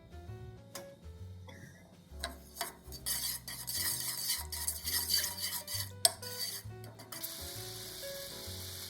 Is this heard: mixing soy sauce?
yes